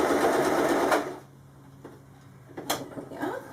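A sewing machine back stitches pashmina fabric in a short, close whirring burst, then stops, followed by quiet handling clicks and light taps.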